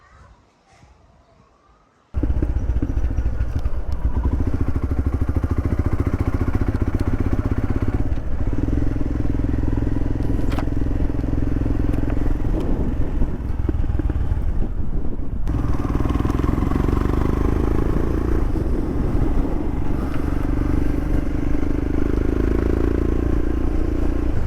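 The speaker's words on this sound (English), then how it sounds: "So I'll take it a quick spin around the block now and just see how she sounds and how it feels." A Royal Enfield Himalayan motorcycle fitted with an upgraded exhaust and air filter starts up after a quiet moment and rides on, its engine a loud, steady, close rumble with gear changes and slight shifts in pace and wind noise.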